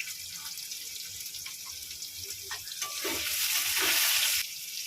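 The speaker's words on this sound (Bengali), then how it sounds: "পেঁপে আর আলুটা ভেজে নেব" Papaya and potato pieces frying in hot oil in a home kitchen, a steady close sizzle with stirring scrapes that swells louder toward the end, with no voices.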